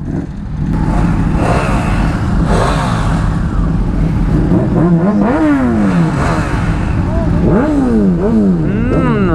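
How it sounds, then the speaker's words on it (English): Several sport motorcycle engines, including a Suzuki Hayabusa and an Aprilia RSV4, start up and rev, their pitch rising and falling in repeated throttle blips, loud and close, with a few voices faintly underneath. "let's listen to the startup of all these bikes"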